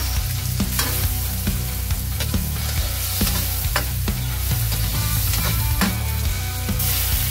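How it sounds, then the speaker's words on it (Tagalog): Garlic, tomato and onion sautéing in hot oil for chicken liver and gizzard adobo, a steady loud sizzle broken by repeated sharp scrapes and clacks of stirring, with no talking. "maglagay tayo ng mantika. Igisa natin ang bawang. Isunod natin ang kamatis at sibuyas."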